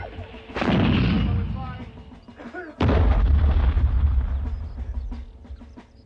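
World War One artillery guns fire two loud, heavy booms about two seconds apart, each with a long rumbling tail, while a voice speaks briefly beneath the noise.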